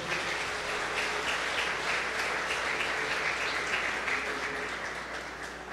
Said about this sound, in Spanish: Denle el aplauso a Él por eso